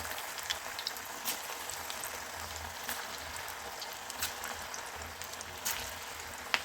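Moong dal bhaji fritters frying in hot oil in a kadhai, a steady close bubbling sizzle with scattered crackles and pops throughout, no talk.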